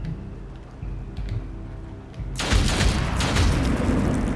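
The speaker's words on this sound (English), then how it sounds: "Come and do a close-up of her shooting him" A character in the video game Othercide fires at an enemy, a sudden loud burst of gunfire erupting after a quiet low-droning stretch and sustaining as a dense, booming blast.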